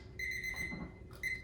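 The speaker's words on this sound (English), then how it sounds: "That's my alarm." A kitchen timer alarm beeps in a steady, tonal pattern during a bread-proofing session, sounding close and clear with a brief pause near the end before it resumes.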